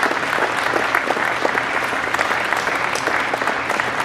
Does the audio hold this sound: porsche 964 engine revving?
no